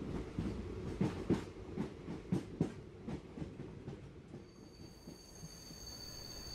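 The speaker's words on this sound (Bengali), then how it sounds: "সুটকেস গুছিয়ে নিয়ে ট্রেনে চড়ে বসলাম।" A train rolls along in an audio story, its wheels clattering in uneven rhythmic knocks that ease off into a steady low rumble with a faint high squeal near the end, no voices.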